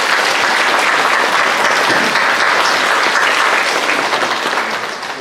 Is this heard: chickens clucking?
no